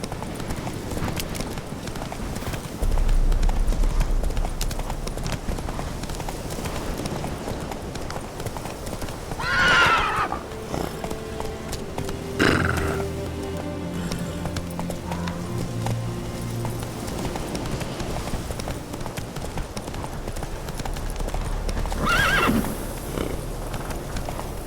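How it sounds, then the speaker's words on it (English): A horse in The Witcher 3 video game, hooves clip-clopping steadily at a run, with a couple of neighs and whinnies breaking in over a continuous game background. "Whoa there, Roach"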